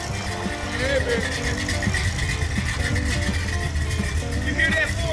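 A 1969 Chevelle's 400 small block engine idles nearby with a lumpy, pulsing rumble and brief rises in revs, under people talking inside the car.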